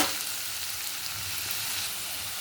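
Ridge gourd slices dropped into hot oil in a pan that is already frying, giving a steady, close, broadband sizzle that holds evenly throughout with no voices.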